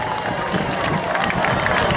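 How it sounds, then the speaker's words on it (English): Outdoor crowd at a military open house cheering and applauding the US Army Golden Knights parachute team, a steady continuous wash of clapping and voices throughout. "Ladies and gentlemen, let's give a round of applause for the down plane."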